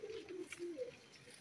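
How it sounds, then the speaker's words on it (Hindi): Soft, low pigeon coos repeat a few times in quick succession, faint and nearby from pigeons caught in a large net, with a little background hiss. "देखो जाल में कितने कबूतर रह गए हैं।"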